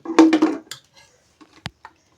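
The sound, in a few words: chopping shallots with a knife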